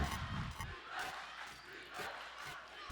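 A student crowd cheers at a girls basketball championship game, a loud, roaring mass of voices and shouts that rises and falls in waves across the gym.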